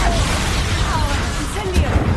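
Expulso explosion spell going off in Hogwarts Legacy, a short burst and crash over dense, continuous game noise, with a voice talking through it.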